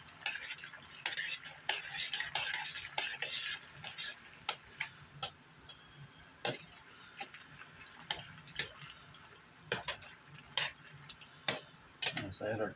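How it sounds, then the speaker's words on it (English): Macaroni and cheese with a splash of milk stirred in a pot, heard as soft continuous scraping and stirring punctuated by irregular clinks of a utensil against the pot, fairly quiet and close. "Kind of stir it up a little bit."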